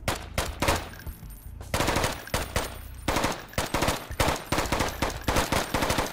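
Rapid automatic fire from the player's gun in the stealth-action game Intravenous, coming as a string of sharp, closely spaced bursts with short pauses between volleys.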